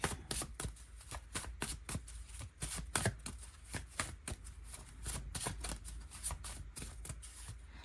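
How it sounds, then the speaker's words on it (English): Rapid riffling and snapping of a deck of playing cards being shuffled, repeated bursts in quick succession, close up with no talking. "Just give these cards a good shuffle."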